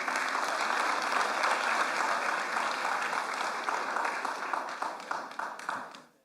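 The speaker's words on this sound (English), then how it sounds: "Please give him a round of applause." An audience in the Sir Cecil Jacobs Auditorium at the Eastern Caribbean Central Bank applauds Governor Timothy N.J. Antoine: a sustained wash of many hands clapping that thins toward the end and fades out.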